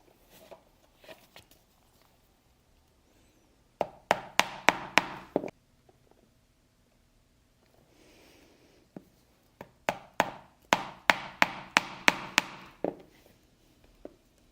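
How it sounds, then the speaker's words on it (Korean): Leather stitching holes punched with a pricking chisel struck by a hammer, two close bursts of sharp rhythmic taps, about six quick blows and then around ten, with quiet pauses between. "그렇게 하고 이쪽을 쭉 뚫으시는데 물론 올 그리프, 송곳 그리프를 쓰실 수도 있어요"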